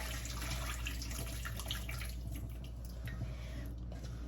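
Water runs steadily into a pot as collard greens are rinsed to wash out sand, a continuous soft splashing and trickling close by with no talk.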